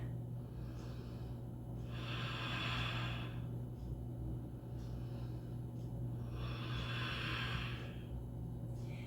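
Heavy breathing during a vinyasa yoga flow while holding downward facing dog, two long airy exhalations rising and fading a few seconds apart, close and steady over a low constant hum, with no talking.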